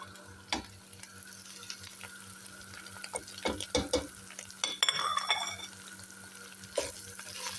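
A spoon stirs macaroni with turmeric, berbere, salt and spice powder in a pot, scraping and clinking in irregular strokes over a soft background sizzle, close up with no voices.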